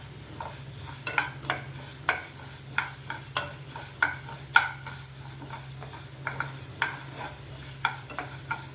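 Food being stirred continuously in a pan on the stove, a soft background sizzle punctuated by a steady rhythm of spatula scrapes and clinks against the metal, close and fairly quiet.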